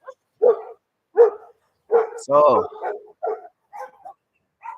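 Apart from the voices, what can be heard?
many pit bull dogs barking behind the speaker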